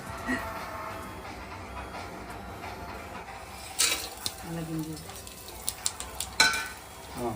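Metal spoon stirring and scraping biryani spices, including cumin, poppy seeds and fennel, in a cooking pan, with soft repeated scrapes, a few louder clinks near the end, and a low background hiss.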